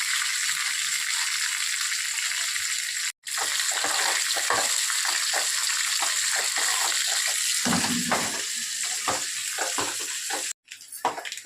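Dried red chillies and curry leaves sizzle in hot oil as a tempering for a gongura tomato curry, a close, continuous hiss broken by brief cuts, with scraping and stirring clicks toward the end.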